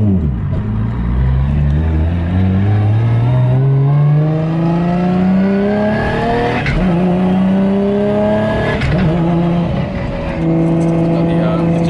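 Nissan Skyline R34 GTR tuned to about 1000 hp with a Varex adjustable exhaust, revving hard in repeated rising sweeps that fall back and climb again, loud and close, with people talking faintly underneath.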